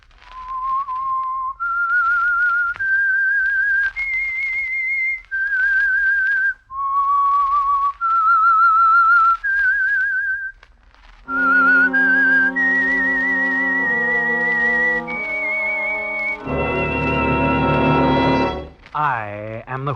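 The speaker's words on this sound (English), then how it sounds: "That whistle is your signal for the Signal Oil program" A lone whistler carries the eerie theme signal of the 1948 radio drama The Whistler, a slow melody of sustained pure notes, then an orchestra swells in with held chords and a final flourish.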